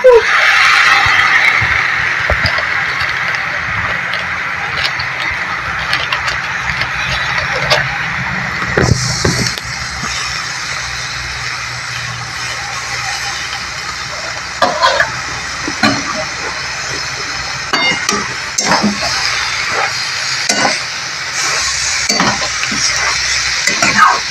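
Boiled cabbage frying and being stirred in a pan for an egg and cabbage curry, giving a continuous sizzling hiss with scraping stirs and occasional clatters of the spatula throughout, recorded close.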